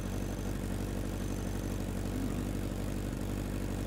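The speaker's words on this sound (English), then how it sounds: "Turn off the engine!" A vehicle engine in the video game Fallen Earth runs in a low, steady idle with a rhythmic, throbbing rumble, fairly quiet and heard alone.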